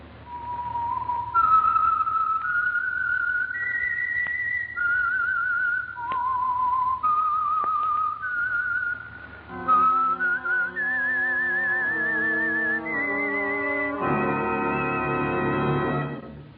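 Whistled theme tune introducing the Signal Oil radio program The Whistler: a clear, solitary melodic whistle of sustained notes rising and falling, joined near the end by orchestral chords. No one speaks.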